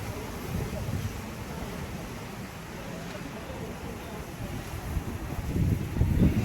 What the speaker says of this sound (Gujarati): વરસાદ તો નથી પણ પવન જ એટલો ફૂંકાય છે.